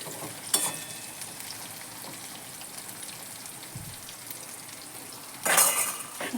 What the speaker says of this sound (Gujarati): કાંદો હવે આપણે સતળવા દઈશું.